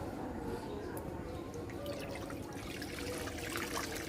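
Water trickles and drips softly into a karahi pan, a quiet, continuous pour with faint droplets.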